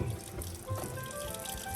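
Water runs and splashes steadily into a pet snake's enclosure, a continuous gurgling pour with no talking.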